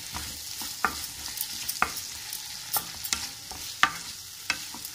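A spoon steadily stirs spices and tomato ketchup through a hot pan for pasta, giving close, irregular scrapes and taps over a continuous soft sizzle, with no voices.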